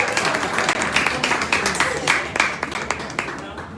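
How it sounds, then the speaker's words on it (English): An audience claps continuously for a guest speaker at an educator event, with a steady crowd of hand claps and voices mixed in. The clapping thins slightly toward the end. "let's give her a hand clap"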